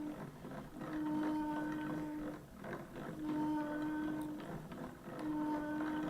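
A yarn ball winder and swift spin as yarn winds, giving a steady mechanical whir with tonal hum that rises and falls in repeating cycles, close and continuous with no talk.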